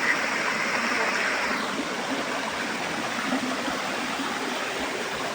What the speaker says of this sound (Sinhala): මෙතනින් ඔන්න ඔය පේන තැනින් තමයි පල්ලයට ස්ට්‍රීට් ඇල්ල කඩා හැලෙන්නේ